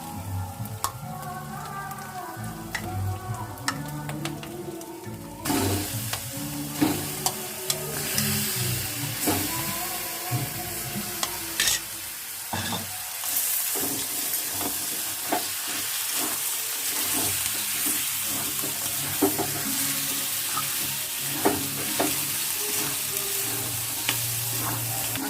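Chicken pieces fry in oil with ground spices, sizzling steadily and loudly while a utensil scrapes and stirs through the pan in repeated strokes, with a sharp burst of sizzle as fresh pieces go in.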